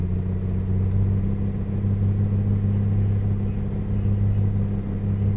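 The engine of a PA24 Comanche in Microsoft Flight Simulator 2020 holds a steady run-up at about 2,000 RPM with the mixture leaned, a constant droning hum with a slightly rough, pulsing texture, alone with no talk.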